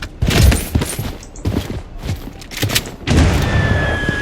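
An RPK machine gun fires in the Blood Strike game in rapid booming bursts, loud and close, with brief gaps between volleys.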